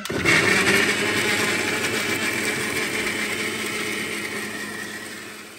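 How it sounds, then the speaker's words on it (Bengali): A kitchen blender whirs steadily while grinding spices for a beef biryani being prepared for a circumcision feast, a continuous loud motor drone that starts abruptly and slowly fades slightly over several seconds, with no talking. "ব্লেন্ডার দিয়ে মশলা কুচি করা হচ্ছে।"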